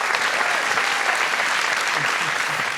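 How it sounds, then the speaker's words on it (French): Studio audience applauds loudly and steadily on a French talk show as guests are welcomed, a dense continuous clatter of clapping with no voices over it. "Je vous demande d'applaudir bien fort"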